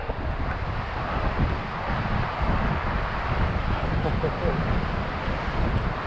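Strong night wind buffets a Hilleberg Allak tent while wild camping in Scotland, a constant roaring rush with no letup, loud and close to the microphone throughout.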